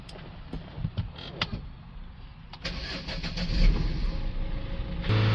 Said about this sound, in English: Now we can start the vehicle up.